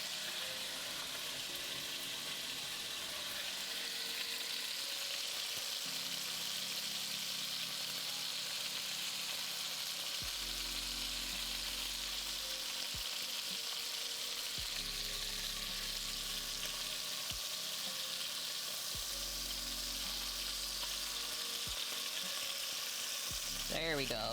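Beef for birria searing and frying in a pan, a constant bright sizzle with occasional stirring, while a low hum switches on and off in the background.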